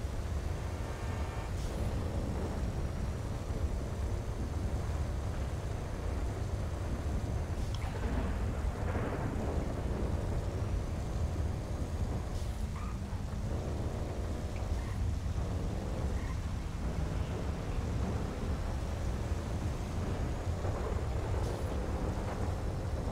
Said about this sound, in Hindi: बारिश बहुत ज़्यादा हो रही है यार